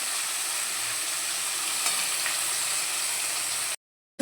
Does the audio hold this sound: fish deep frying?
yes